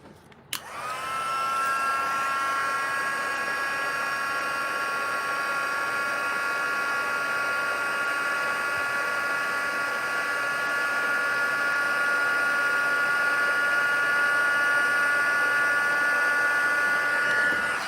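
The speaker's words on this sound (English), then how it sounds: "I'm gonna grab my heat tool. And we're going to heat set that embossing powder" A handheld heat tool blows steadily to set embossing powder on a crafting project, a loud continuous whirring hiss with a high whine that starts abruptly after a click and runs unbroken to the end.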